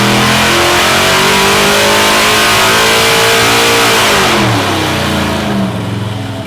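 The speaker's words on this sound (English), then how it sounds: "the first 2 dyno pulls were made and the engine was firmly in the 950 horsepower range" A 632-cubic-inch big-block engine roars loud and close during a dyno pull, its pitch climbing steadily for several seconds before the revs drop and fade.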